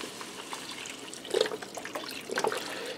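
Beef broth pours from a container into the pot of a Power XL air fryer grill combo, a soft splashing, trickling stream close by that swells in two brief surges.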